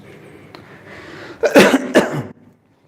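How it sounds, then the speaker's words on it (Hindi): Two sharp, close coughs in quick succession, loud and raspy, with a faint breath before them and silence after. "खांसी हो रही"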